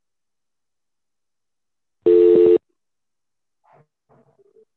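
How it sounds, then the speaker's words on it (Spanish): A telephone line gives a single short, loud electronic tone, then it goes quiet apart from a few faint, brief sounds afterward. "Silenciar el teléfono, por favor."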